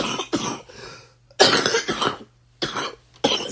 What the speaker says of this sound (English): that's what got me coughing